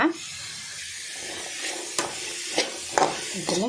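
Masala fries in oil for kadle manoli sukka while a spoon stirs it, giving a hissing sizzle broken by a few sharp, close scrapes and no talking.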